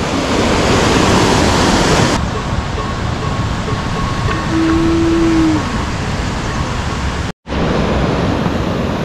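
A mountain torrent and waterfall near a hut on the Tour du Mont Viso roar as a loud, continuous broadband rush, briefly cut by a short gap, with no talking over it.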